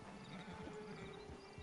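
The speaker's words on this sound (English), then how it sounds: "Get on the horse there." Horse hooves clip-clop steadily on a dirt path in the Western video game Red Dead Redemption 2, close and continuous with occasional snorts beneath a low ambient hum.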